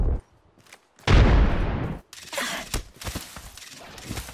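A frag grenade explodes in Apex Legends with a loud, broad blast lasting about a second, followed by scattered sharp bursts of gunfire and impacts in a chaotic firefight.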